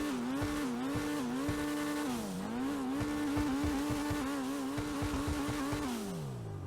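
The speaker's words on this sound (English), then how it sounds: "let's see how the Pfister Growler actually sounds" Pfister Growler sports car in GTA Online revving and shifting, its engine note rising and falling in repeated waves, with tire squeal and skids mixed in, loud and close.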